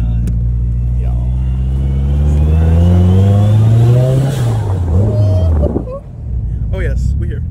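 A Nissan S14 240SX engine revs up in a long rising pull from inside the car, holding loud and strong before dropping back to a lumpy high idle, with people talking over it.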